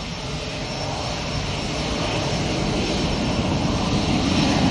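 An EasyJet jet airliner roars steadily on departure for Amsterdam, a loud broadband engine rush that holds and swells slightly throughout, with no voices.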